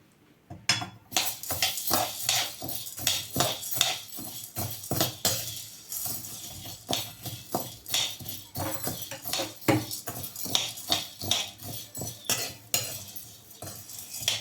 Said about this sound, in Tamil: அடுத்தது கடலைப்பருப்பு போட்டு வறுக்கலாம்.